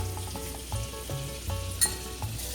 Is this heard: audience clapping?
no